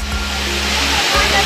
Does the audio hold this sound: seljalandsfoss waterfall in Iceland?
yes